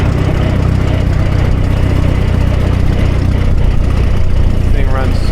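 A propane-powered G950 engine runs steadily outdoors in the wind, a loud, continuous low rumble that holds even throughout with no breaks.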